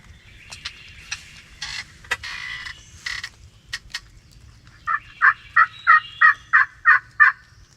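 A wild turkey gobbles in the distance, a rapid rattling run of about eight clipped notes, after scattered softer calls and clicks in a quiet outdoor setting.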